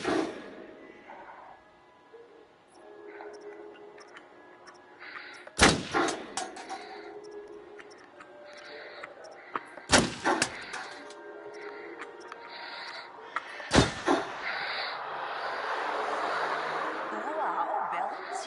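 Three sharp, loud pistol shots in Until Dawn on PS5 crack out several seconds apart over quiet game ambience, with a voice chuckling and talking between them.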